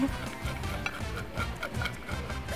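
Onions stirred in a cooking pan with a spoon, a steady scraping and shuffling close up with faint sizzling underneath.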